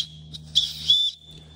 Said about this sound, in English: I really like that the Dudek harness has the rape whistle on it